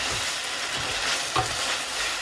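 Egg and cheese carbonara sauce stirred around a pan, a steady soft sizzle and scraping swish with one brief louder knock near the end, no voices.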